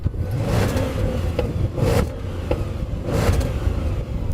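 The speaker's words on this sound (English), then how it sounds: "I'm going to rev up mine." An Audi RS engine is revved in short bursts, each rising roar easing off between blips, loud and close with no talk.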